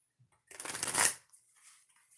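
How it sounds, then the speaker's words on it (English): Tarot cards are shuffled in one quick riffle that swells and fades over about a second, followed by a softer settling rustle, close and alone. "I'm going to shuffle this 2 more times."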